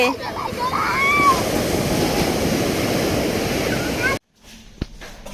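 Ocean waves wash up the shore at Puri beach, a loud, steady roar of surf with wind buffeting the microphone, a person's voice calling out briefly over it, before the sound cuts off near the end.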